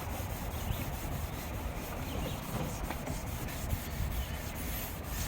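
Steady, even rubbing of sandpaper on a Honda Civic Sport hatchback spoiler, a soft continuous abrasive hiss with no pauses, fairly quiet and heard on its own without voices.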